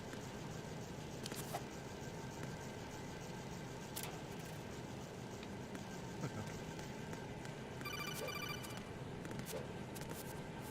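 A codec call rings in the Metal Gear Solid 2 video game: a rapid electronic trill late in the stretch, rising briefly above a constant hissy game ambience with scattered clicks.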